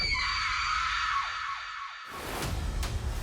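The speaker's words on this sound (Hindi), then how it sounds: "मेरी चीख निकल गई।" A woman's shrill horror-style scream rings out alone, a high sustained wail that slides downward and breaks off abruptly, followed by a dull burst of noise.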